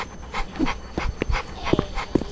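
Dog sounds from the Roblox game Mad City: short yips and small whimpers recurring in spaced bursts over faint background noise, with no talk.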